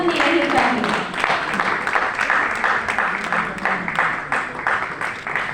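Steady crowd applause fills an award ceremony hall, with dense continuous clapping from an audience and speech running underneath.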